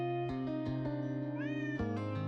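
Cat in the video game Honkai Impact 3rd meowing while being petted, a string of close, clear meows over a steady game music bed, including one long rising mew.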